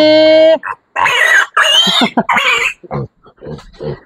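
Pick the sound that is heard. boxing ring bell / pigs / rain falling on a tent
pigs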